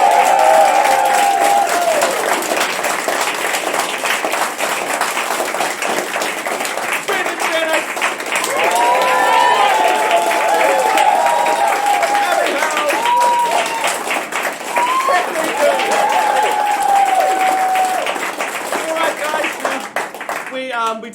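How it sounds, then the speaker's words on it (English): Audience applause at the close of a show, sustained clapping from a crowd over about twenty seconds, with voices and some cheering mixed in and talk running over parts of it. "Please give a big round of applause"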